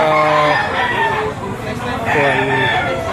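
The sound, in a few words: roosters crowing at a chicken auction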